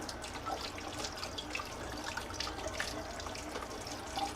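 Tap water runs and splashes while a Pink Princess Philodendron plant is rinsed in a sink. It makes a soft, steady trickle with scattered small drips and splashes, fairly faint and with no voices.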